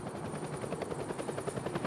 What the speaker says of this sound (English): The team may have found a way to control this vast helicopter